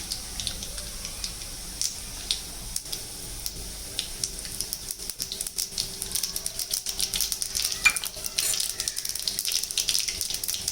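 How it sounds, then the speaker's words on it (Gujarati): Mustard seeds crackle and pop in hot oil with garlic pieces, a dense run of sharp, close clicks over a steady sizzling hiss, continuous and busy for about ten seconds with no voices. "રઈ આપણી ફૂટવા માંડી છે"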